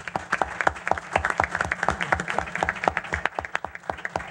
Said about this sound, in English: That, I think, deserves a round of applause for sure.